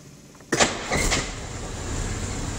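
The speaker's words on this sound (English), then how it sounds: "This car is a push-button start." A 1954 Bentley R Type engine cranks and catches after a push-button start, a sudden loud burst settling into a steady idle rumble that continues to the end, with no talking.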